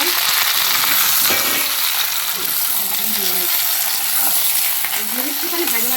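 Beans, pumpkin and eggplant fry in a hot pan over onion tempering, giving a loud, steady, continuous sizzle with faint stirring clatter throughout.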